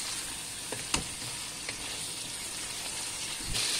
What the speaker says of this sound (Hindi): और इसको अच्छी तरीके से भूनेंगे।